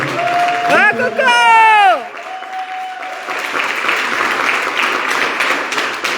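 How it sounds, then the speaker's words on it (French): Audience applause at an evening public-speaking event in French, broad clapping noise that starts under a loud voice with cheering and shouts, then continues steadily on its own at moderate volume. "Un peu d'applaudissements parce que..."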